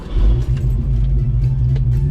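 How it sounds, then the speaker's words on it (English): A Foxbody Mustang with a swapped Tremec T-56 Magnum six-speed manual roars hard at high revs, then over-revs. The engine's loud, close rumble holds steady throughout. "Oops, over rev."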